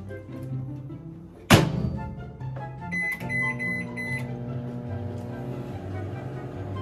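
A microwave oven door shuts with a sharp thunk, then buttons beep and the oven hums steadily as it heats a bowl of spicy noodles, close by with no talking.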